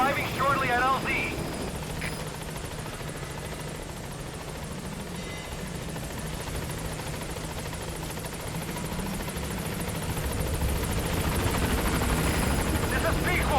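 Helicopter rotor drone from a Metal Gear Solid V support chopper coming in to a landing zone, a steady dense whir that holds throughout and swells slightly near the end, with radio-style voices speaking over it.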